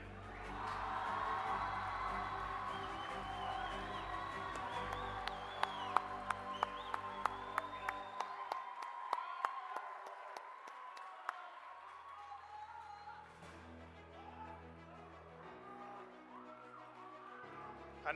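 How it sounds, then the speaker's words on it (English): Audience at a graduation ceremony gives a round of applause for a graduate walking on stage, scattered claps and cheers that fade to a quieter room, fairly distant and soft throughout. "A round of applause, please, for Abdullah Saleh."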